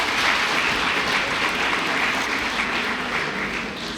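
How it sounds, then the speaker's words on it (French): Steady applause from an audience at a university graduation ceremony in Gabon, dense and even throughout, fading slightly toward the end. "On applaudit pour M. Christian Tanaza."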